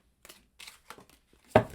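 Tarot oracle cards are shuffled by hand in a few quick, papery riffles, ending in a louder snap as the deck is squared.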